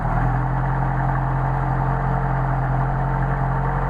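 A Mercedes 190SL engine running on Solex carburetors idles steadily in hot weather, a continuous low rumble with a strong fundamental hum that stays constant throughout, close and alone without talk.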